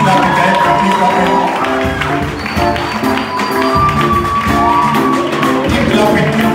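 A seated audience claps steadily through a live music and comedy show, with tapping and rhythmic hand claps over music, while voices shout and talk across it.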